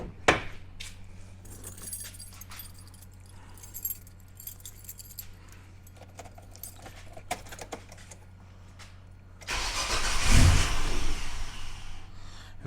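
A Nissan Patrol's Holley TB42 engine cranks and catches around the ten-second mark, rising into a loud rough idle after a stretch of quiet clinking and rattling.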